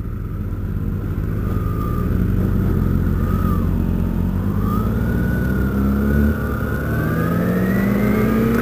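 Motorcycle engines drone steadily and loudly during a group ride, one bike a 2007 ZX14 carrying two people, with wind rush and a rising and falling engine whine throughout.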